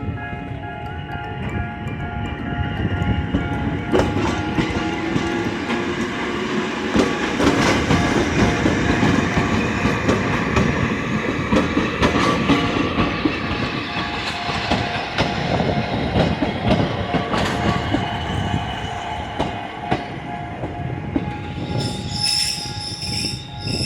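A train rolls past on the railway, its wheels squealing loudly against the rails over a steady rumble and intermittent clatter, close by and sustained throughout with no talking.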